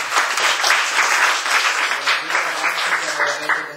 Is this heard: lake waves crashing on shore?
no